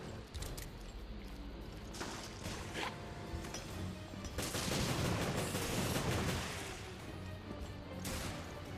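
Long Pale Rider revolver firing in the video game Resident Evil Revelations, Raid Mode: loud booming shots with crashes and clattering effects amid dense game noise.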